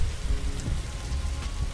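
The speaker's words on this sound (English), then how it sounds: "So we're going to have rain and thunder." Steady rain hissing and pattering on surfaces, with a low rumble of thunder underneath, triggered by the storm command in the dinosaur survival game Mesozoico; loud, continuous and close, with no voices.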